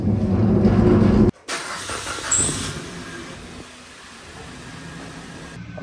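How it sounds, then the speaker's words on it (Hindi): A family car's engine runs as it is driven out, giving a steady rumbling hiss that drops after a sharp break and then carries on more quietly, with no voices. "चाबी ले लीजिए, अभी गाड़ी निकालते हैं।"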